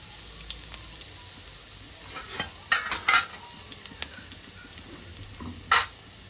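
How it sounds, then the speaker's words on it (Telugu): Sliced onion and two dried red chillies sizzle softly in hot oil, a faint continuous fry broken by a few sharp spoon scrapes and clinks against the pan. "ఆయిల్ వేడైంది ఉల్లిగడ్డ వేసుకుంటుందా ఒక పెద్ద సైజు ఉల్లిగడ్డ సన్నగా గడి చేసి పెట్టుకున్నా అది వేసుకుంటుందా రెండు ఎండుమిరపకాయలు"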